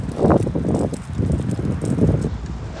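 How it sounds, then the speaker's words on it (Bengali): Strong cold wind outdoors while walking along a street in Italy, loud steady rumbling gusts buffeting close to the microphone. "প্রচুর বাতাস বাতাসের কারণে ঠান্ডা লাগে"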